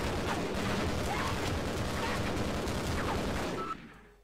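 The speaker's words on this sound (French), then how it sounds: "Et la mitrailleuse dégomme tout ce qui... Ow, tout ce qui bouge." An automatic machine gun turret in Half-Life fires a long, loud, continuous stream of rapid shots that ends abruptly near the close.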